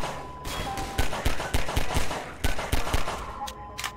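Gunshots ring out in Half-Life 2 as a rapid series of sharp, loud cracks in a rough rhythm, about a dozen shots over a few seconds with brief pauses between bursts.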